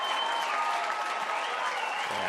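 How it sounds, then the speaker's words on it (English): A stadium crowd at a women's elite 1500m athletics final in Montreal applauds and roars in a dense, continuous wash of clapping and cheering, held far off and steady. "Big roar from the crowd."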